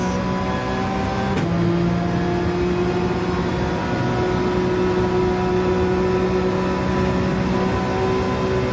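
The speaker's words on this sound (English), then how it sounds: "Get this 911, Porsche 911 up to 160 miles per hour, and then the shift" Porsche 911 engine in Gran Turismo 7 revs and pulls steadily at full throttle, with a sharp gear shift near the start followed by a rising tone. The sustained drone stays loud and close throughout, with no voices.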